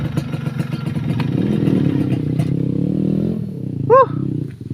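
An enduro motorcycle engine revs loud and close on a trail in Montalban, a steady rough roar that rises and falls, then a short high whoop near the end.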